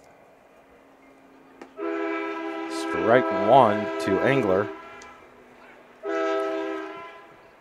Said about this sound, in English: And the choo-choo train makes an appearance.